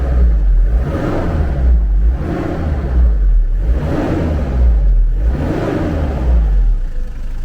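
A 1997 Toyota Town Ace with a 2.0 diesel engine revs loudly and steadily, its deep rumble rising and falling in repeated surges about once every one to two seconds, close and alone.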